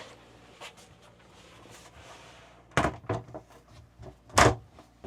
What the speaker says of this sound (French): On peut entrer et refermer la porte.